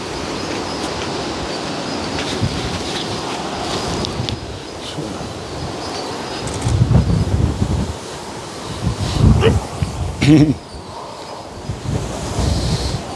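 Strong wind gusts buffet the microphone outdoors on a farm, a continuous roaring rush that swells into louder blasts midway and toward the end, no voices heard.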